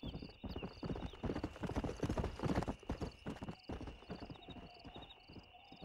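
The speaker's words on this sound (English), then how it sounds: "We got some fine horses." Horse hooves in the video game Red Dead Redemption: a steady run of close clip-clop hoofbeats with a brief whinny, over faint ambient tones and no talk.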